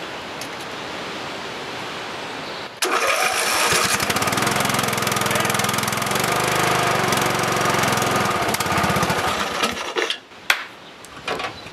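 A Husqvarna YTH150 lawn tractor engine cranks on the starter, then catches and runs loudly with a steady, rough roar close by before cutting out near the end.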